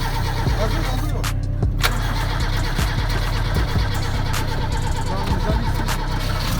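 A Toyota Carib AL25 engine runs on its first start-up, with a loud, steady, rough idle and light revving close by, plus brief clicks and knocks.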